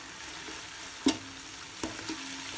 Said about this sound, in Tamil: இந்த அளவுக்கு வெங்காயம் பொறிஞ்சு வந்தால் போதும்